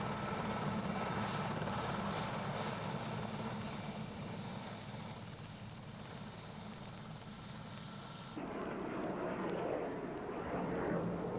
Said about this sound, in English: the Puma, medium-sized helicopter, is just taxiing out ready for his display.